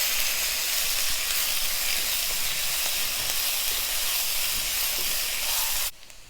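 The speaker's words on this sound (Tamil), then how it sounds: "கருவேப்பிலை போட்டு நல்லா வதக்கிடலாம்." Chopped onion, green chilli and curry leaves sizzle in a hot pan, giving a steady close hiss that runs unbroken for about six seconds before cutting off abruptly.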